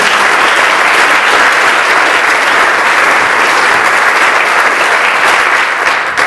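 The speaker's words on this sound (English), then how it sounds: "Let's give them all a round of applause" A crowd at a United Way campaign event applauds performers and actors, a loud, sustained, dense roar of many hands clapping steadily throughout, with no voices heard.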